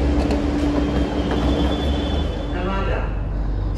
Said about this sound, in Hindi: अपना मेट्रो भी आ गया